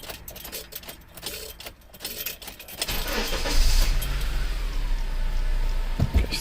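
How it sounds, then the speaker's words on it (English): Keys jingle in the ignition of a 2003 Honda Element 2.4L, then the engine cranks and catches, settling into a loud, steady running roar close by. "Please start motor."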